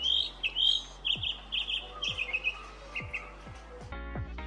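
Mockingbird song: repeated bright chirping phrases in short bursts, fairly close, with faint low background noise and no talking.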